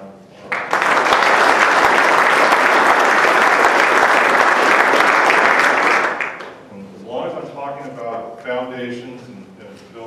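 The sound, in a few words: audience applause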